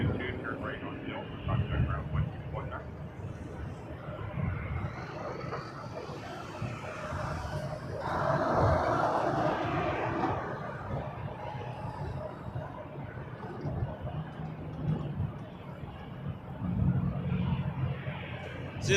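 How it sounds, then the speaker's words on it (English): A Republic Airways Embraer 175 jet rumbles on runway 23, a low distant roar that swells and eases beneath a steady stream of talk and background noise. "Republic Airways lines up, runway 23. Off to LaGuardia on an Embraer 175."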